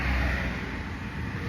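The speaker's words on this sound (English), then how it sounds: "I'm sure you guys can hear the traffic passing by." Steady road traffic passing along a busy roadside, a continuous low rumble of cars heard close by without a break throughout.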